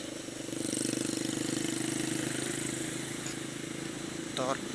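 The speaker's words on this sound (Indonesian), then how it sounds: "Wah, motor custom nih." A custom motorcycle engine idles with a steady, throbbing rumble throughout, fairly close, with a brief rising tone near the end.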